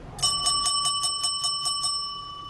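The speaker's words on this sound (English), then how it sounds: "It's time to ring that old bell." An old bell rung for last orders in a pub gives about nine quick, bright, evenly spaced rings that leave a clear lingering tone after the last strike.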